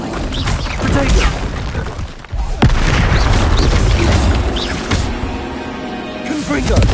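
Fire-spell explosions in Hogwarts Legacy burst out as loud booms and crashes, one after another in quick succession. A voice talks over much of the noise.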